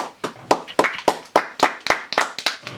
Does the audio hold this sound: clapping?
yes